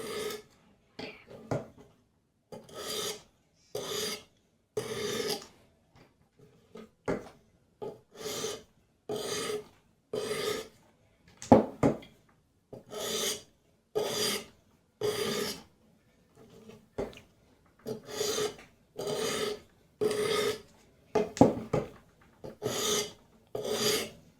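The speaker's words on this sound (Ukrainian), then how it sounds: "І буквально по декілька проходів на зерно під вагою каменя, без тиску." ProTech TR3 folding knife with S45VN steel being sharpened on a Hapstone RS system with diamond and jasper stones, a series of short rasping strokes in quick bursts, close and fairly quiet, with brief pauses between passes.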